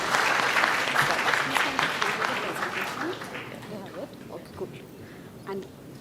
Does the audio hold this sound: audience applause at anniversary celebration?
yes